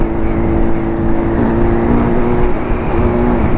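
A CG motorcycle fitted with a Hornet engine and 2-in-1 exhaust runs at high revs on a highway, a loud, continuous engine roar with a steady droning pitch and wind rush, close and with no talk.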